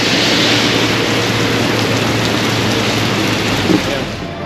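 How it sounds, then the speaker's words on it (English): Heavy rain pours down steadily at a brewery in Alabaster, Alabama, a loud dense wash of noise that fills the scene without a break. "Cleansing rain now and then."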